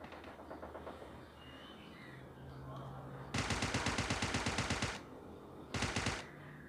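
A UMP submachine gun firing in PUBG Mobile Lite: one long rapid automatic burst followed by a short second burst, loud and close over faint game ambience.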